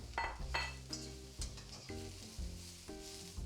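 Green beans are tossed in a wok with minced pork and chilies, giving a close sizzle broken by rhythmic metallic clanks and scrapes of a spatula against the wok roughly every half second, with no talk.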